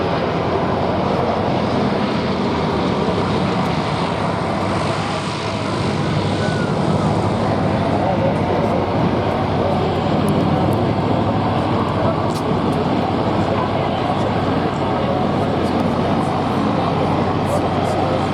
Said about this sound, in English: a big engine, a Bristol Mercury engine, driving a big, huge propeller, doing that strange sound